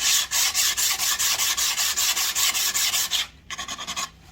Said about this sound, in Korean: 사포질을 해줍니다